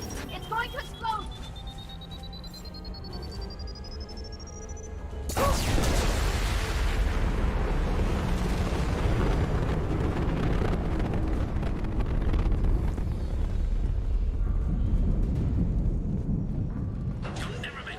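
A loud explosion erupts in the Mass Effect game about five seconds in, a sudden broadband blast that swells into a sustained rumbling roar and lingers for the rest of the clip over earlier game sounds and a rising tone.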